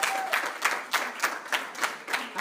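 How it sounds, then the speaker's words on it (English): An audience at a comedy show claps and cheers for a comedian in a steady burst of applause with rhythmic swells, heard fairly close. "Give her another round of applause"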